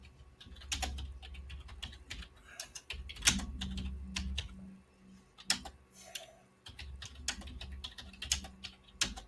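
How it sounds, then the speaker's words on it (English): Computer keyboard typing in bursts of quick, uneven keystrokes, fairly close and clear, with a low hum and a few soft background sounds in between and no talking. "Typing away."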